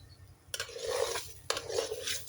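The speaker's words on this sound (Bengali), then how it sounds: "এখন আমি অনবরত নাড়তে থাকবো, নাহলে নিচে পোড়া লাগবে।" A spoon scrapes and stirs pilaf rice in a pot on the stove, two rough scraping passes about a second apart, close and moderately loud with a low hum underneath.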